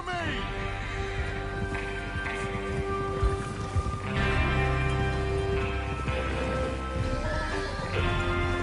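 Horses whinny and hooves clip-clop in a Red Dead Redemption 2 Western scene, with a bed of game music and ambience running steadily throughout.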